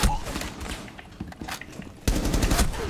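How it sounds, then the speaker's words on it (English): Rapid bursts of gunfire in the tactical shooter video game Rainbow Six Siege, loud and close, with a dense rattling volley at the start and another hard burst near the end. "I heard someone shoot at her."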